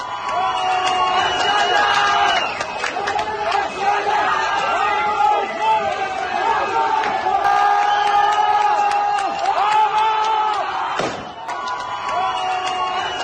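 Violent clash between a crowd of protesters and Iranian security forces in Hamadan, with buildings set on fire: a loud, continuous roar of shouting voices and cries, punctuated by bangs and thuds.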